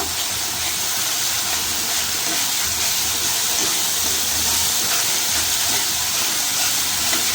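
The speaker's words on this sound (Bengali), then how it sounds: "দিচ্ছি পোস্ত বাটা, কিছুক্ষণ নেড়ে চেড়ে দেব।" Poppy seed paste sizzling in a pan of spiced oil for rui posto, a steady loud hiss with faint stirring beneath, no voices.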